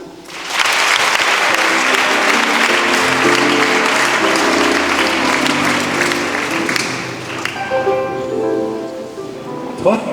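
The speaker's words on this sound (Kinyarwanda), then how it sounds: "Yesu amashyi menshi cyane." A church congregation bursts into loud, sustained applause that fills the hall for several seconds, then thins out as voices begin speaking over the fading claps.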